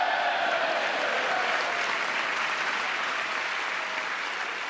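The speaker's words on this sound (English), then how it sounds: "The Senate responded with thunderous applause." Thunderous applause rolls through the Senate chamber, a broad, sustained roar of many hands heard somewhat distant and subdued, holding steady before easing slightly at the end.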